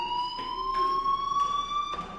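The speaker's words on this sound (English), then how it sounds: "do you hear that fire alarm? That means you should be outside." Fire alarm in the game Life Is Strange, a steady electronic tone sounding continuously with rhythmic bursts of noise pulsing through it, loud and with nobody speaking.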